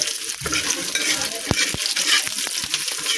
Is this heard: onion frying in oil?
yes